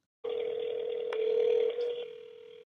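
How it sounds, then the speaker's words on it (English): A steady phone tone sounds after the call button is pressed, holding one continuous pitch for about two seconds before cutting off. "Then press the green phone button to initiate the call."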